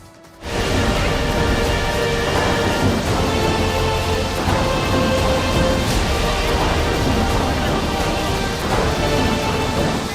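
Heavy monsoon rain pours down in a dense, loud, unbroken roar, with low rumbling underneath that suggests thunder. It runs steady for about ten seconds after a brief quiet start.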